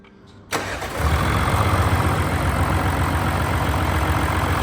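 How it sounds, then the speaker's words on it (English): A 2021 Audi S4 3.0 TDI V6 diesel saloon fires up after a moment of quiet, a sharp crank catching into a steady, deep, thudding idle that carries on loud and close. "And yeah, Dan, if you want to start the engine up for us, please."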